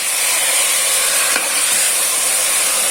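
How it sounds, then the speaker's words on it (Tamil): Quail biryani is stirred with curd in a cooking pot, giving a steady, close sizzling hiss with soft scraping from the stirring. "தயிரோடு சேர்ந்து நல்லா மிக்ஸ் ஆகட்டும்."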